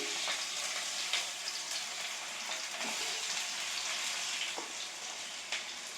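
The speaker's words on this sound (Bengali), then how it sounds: "গরম হয়ে গেছে এর মধ্যে আমি গরম মশলাগুলো দিয়ে দিলাম" Whole garam masala of cloves, cinnamon, cardamom, bay leaves and dried red chillies sizzles steadily in hot oil in a home kitchen, with a close, continuous crackling hiss and small pops, without talk.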